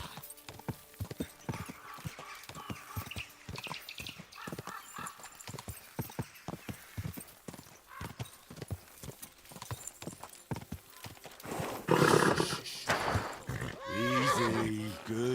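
A horse trots along in a medieval video game, its hooves clip-clopping in a steady rhythm before it lets out a loud whinny near the end, with a voice speaking briefly over the hoofbeats.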